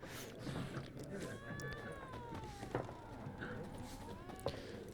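A cat meows in The Witcher 3 video game, a few rising and falling mewing calls heard close up over a busy background of game ambience and footsteps.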